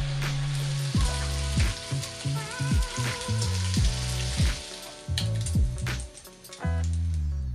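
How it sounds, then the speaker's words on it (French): Smoked pork belly slices fry in a pan for a Korean café-style sandwich, giving a loud, steady sizzle with crackling pops and occasional soft clatter, and no voices. "Commençons par cuire les tranches de poitrine fumée"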